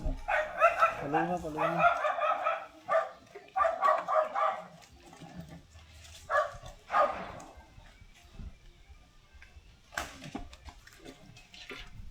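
Several dogs bark in short bursts of sharp, close barks, with pauses between volleys and a whimper early on, while people talk in Filipino nearby at a resort.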